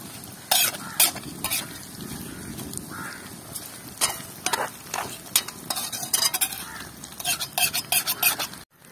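Onion and herbs simmer in oil over a low flame for a homemade herbal hair oil, producing a continuous bubbling sizzle broken up by frequent sharp scrapes and clatters of a utensil against the pan.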